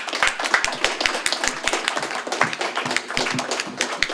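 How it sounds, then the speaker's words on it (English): Small audience clapping for panelists after a talk on the value of a philosophy degree, distinct individual claps from a modest group in a close, sparse rhythm. "If we could just give them a round of applause."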